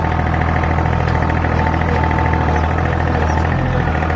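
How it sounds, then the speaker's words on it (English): A John Deere 3025E compact tractor's diesel engine runs loud and close with a steady, throaty drone while being revved to lift a load, no voices over it. "Let's rev it up here a little bit."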